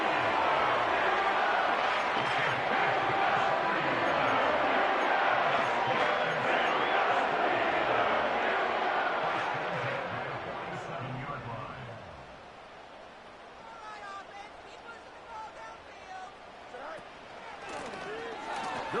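Football stadium crowd swelling with oohs and aahs during a running play, a dense roar of many voices with a commentator talking over it, easing off partway through.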